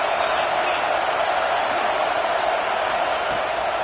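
A dense, steady roar of a large college football stadium crowd fills the space, loud and unbroken, with no clear individual voices.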